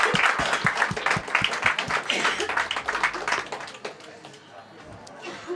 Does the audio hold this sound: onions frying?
no